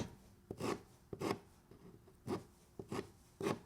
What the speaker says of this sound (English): just take a little file and you can sand the edge of it down